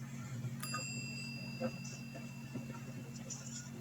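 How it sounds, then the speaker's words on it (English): A bell rung in the video game Blue Prince gives one bright chime that hangs on as a thin ringing tone, over a steady low game hum and quiet background sound. "I'm going to do the bell."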